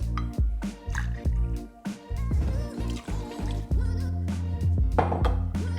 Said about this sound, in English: Next, add 2 ounces of your favorite tequila.